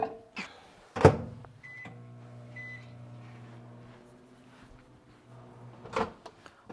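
A microwave oven heating a fudge mixture of sweetened condensed milk in a bowl: the door thuds shut, a few beeps follow, then a steady low hum runs under the turntable's drone before a sharper clunk near the end, with no talk.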